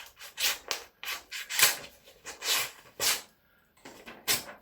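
A knife blade from a Rosecraft D2 slicing through cardboard, giving a series of rough rasping strokes, about eight bursts with short gaps, close and fairly loud, no voices.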